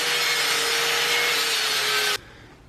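Solar panel mounting brackets being cut by hand for a DIY Sprinter van conversion: a steady, loud, continuous abrasive cutting noise runs unbroken for about two seconds, then stops abruptly, leaving quiet room tone.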